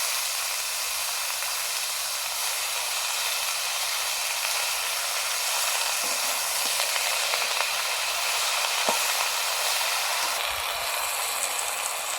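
Spinach hits a hot pan for a Bengali chorchori with potato, eggplant and beans, giving a steady, continuous sizzling hiss at moderate loudness, with a few faint clicks and no voices.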